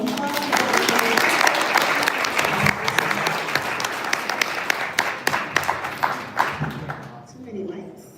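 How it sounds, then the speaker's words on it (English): A sustained round of applause from an audience at a startup pitch event, dense clapping that thins into scattered individual claps before fading out, with voices talking underneath. "everybody give Olga a round of applause"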